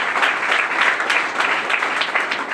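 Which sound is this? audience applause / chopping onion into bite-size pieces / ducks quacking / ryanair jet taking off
audience applause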